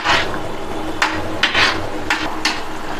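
A spoon scrapes and knocks against a pot while salt and sunflower oil are stirred into pasta water, giving several sharp clacks over a steady background hiss.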